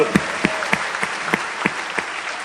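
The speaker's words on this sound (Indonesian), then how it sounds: "Oke, tepuk tangan saya dulu kembali Bapak Ibu" An audience at a business seminar claps in unison, with rhythmic, evenly spaced beats that sound crisp and fairly loud over a continuous background of scattered clapping.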